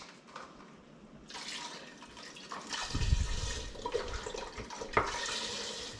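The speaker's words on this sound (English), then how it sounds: "I'm just gonna add the rest of my vegetable broth into here." Vegetable broth pours into a stew pot as liquid splashes and runs steadily for several seconds, followed by a sloshing shake of the pot.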